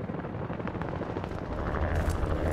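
A helicopter's rotor thumps steadily beneath a rumbling, noisy mix of effects in Call of Duty: Black Ops 6, growing louder and heavier toward the end.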